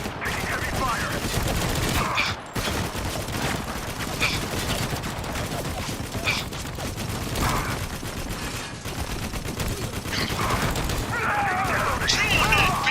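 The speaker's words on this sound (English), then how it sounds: "Taking heavy fire." Heavy, sustained automatic gunfire and explosions from a first-person shooter video game fill the whole stretch with dense, loud bursts, while voices shout over the battle.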